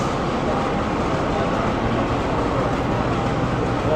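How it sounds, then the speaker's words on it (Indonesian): The Sri Tanjung locomotive and its carriages are shunted backward through a station, giving a steady, loud low rumble of rolling stock and engine noise with no distinct clanks or horn. "Nah, ini lokomotif serangkaian-rangkaiannya, lokomotif dan rangkaian dilangsir mundur."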